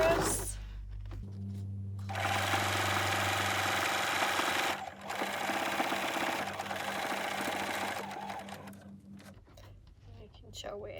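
A sewing machine stitches across a cushion cover seam in continuous runs of fast, even mechanical whirring, close and fairly loud, with short pauses where the fabric is pivoted at the corners.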